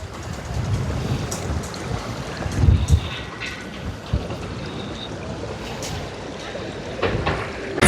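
Water rushes through temporary channels beside a bridge under construction, heard outdoors as a steady broadband wash. Wind buffets the microphone, with a few louder thumps and bumps along the way.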